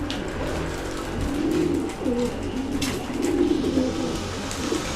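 Chicks chirping in a nest as they are fed, with dove-like cooing throughout; a steady, fairly close stream of soft coos and calls with no talking.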